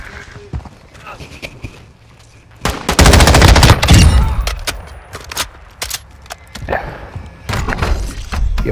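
An RPK machine gun fires a loud, dense burst of rapid shots in Modern Warfare 2 DMZ gameplay, preceded and followed by scattered clicks and thuds, with players chatting throughout.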